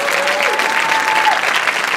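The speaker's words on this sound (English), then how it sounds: "I'm sorry for clapping over the applause" Board meeting audience applauding, a dense, loud, even wash of clapping from many hands lasting throughout, with a faint tonal whine running beneath it.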